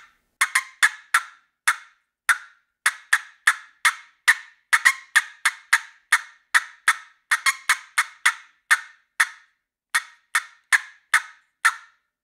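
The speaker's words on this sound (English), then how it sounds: "I'm just slapping the paddle down on the tone board over to the one side." Turkey box call cutting, a paddle slapped against the tone board to one side, producing sharp, loud, close clucks in quick uneven bursts and runs, about thirty in twelve seconds, with no voices.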